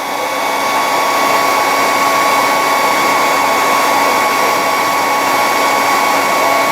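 A hair dryer running on its cool setting, used to cool heated plastic model kit pieces held in clamps, blows a steady, loud, unbroken whoosh with a faint whine throughout.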